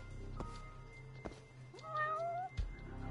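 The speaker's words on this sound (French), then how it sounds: "Et j'entends vraiment ce chat" A cat meows in the video game Judgment, a few drawn-out, wavering cries at moderate distance over a quiet hum, with soft knocks and footstep-like thuds in between.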